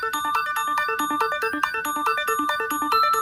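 A quick synth arpeggio from a GarageBand remake of Sonic Mania's intro theme runs in a steady loop with bell-like glockenspiel tones layered on top, bright and busy.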